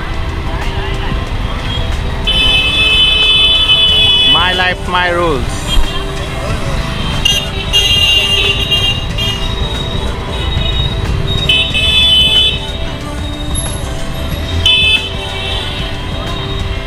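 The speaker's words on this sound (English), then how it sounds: "You can see lots of traffic as well." Busy street traffic in Sawantwadi town, with horns tooting repeatedly over a steady roadway rumble and a nearby vehicle passing, while a person talks over the noise.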